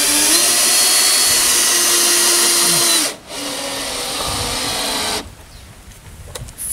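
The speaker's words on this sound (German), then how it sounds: "Noch den Bit rein. Dann die Schrauben." A power drill drives screws through a bit into pre-drilled wood for a grill hut build, its loud whine pitching down under load. It cuts out briefly near the three-second mark, runs again, then stops, leaving quieter clatter.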